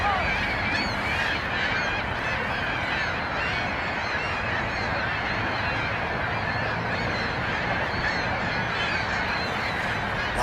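A flock of geese honks on open water near a lakeside fishing spot, with dense, overlapping calls going on continuously at moderate distance and no talking.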